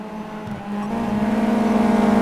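Race cars in the Simraceway sim racing game roar through an S-bend, one engine note climbing steadily as it accelerates, loud and close with no talk.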